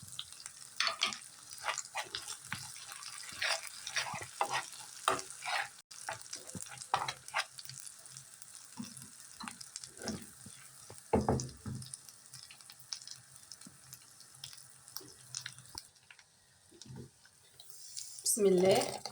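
Coriander frying in Egyptian country ghee with garlic for molokhia, a steady broadband sizzle with frequent stirring and utensil scrapes throughout, close and fairly loud, ending with a brief clatter.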